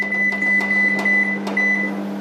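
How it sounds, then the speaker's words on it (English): A microwave oven heats quinoa, a steady loud hum with a thin high whine and a few soft rhythmic clicks or thumps, with no talk. "Back it goes in the microwave."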